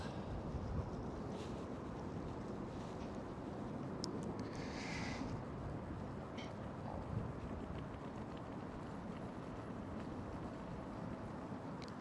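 Wind blowing across an open parking garage at Schiphol Airport, a faint, steady, low rumbling buffet with no other clear sounds.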